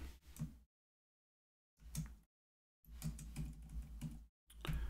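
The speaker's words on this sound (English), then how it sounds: "I'm going to type in here" Typing on a computer keyboard in short bursts of quick key taps separated by silent pauses, close and clear with no talking.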